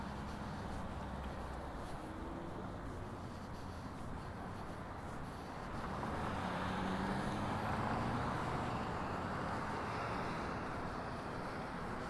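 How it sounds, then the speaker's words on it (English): Street traffic rolls along San Juan Blvd in Farmington, New Mexico, a continuous low roadway rumble with a passing vehicle swelling louder midway, heard from the sidewalk at moderate distance. "Even more traffic and noise and dust."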